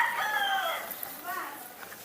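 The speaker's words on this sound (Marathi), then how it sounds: "कोंबड्या आहेत बाजूला." A rooster crows among chickens outside a village house, its drawn-out call loud and close and carrying on for about two seconds, with faint clucking from the nearby birds.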